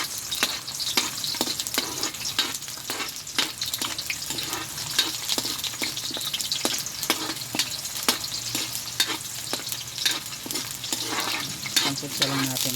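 Onions sizzle and fry for pansit malabon in a home kitchen, a steady close crackle broken by repeated sharp scraping strokes of a stirring utensil against the pan, without talking.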